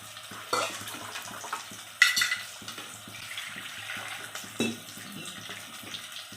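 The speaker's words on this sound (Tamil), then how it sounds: "நம்ம ஊற வச்ச புளியை நல்லா கரைச்சி எந்த டஸ்ட்டும் இல்லாமல்" Soaked tamarind is stirred and squeezed by hand in a bowl of water for a fish gravy, producing faint, intermittent wet sloshing and splashing with a few sharper bursts.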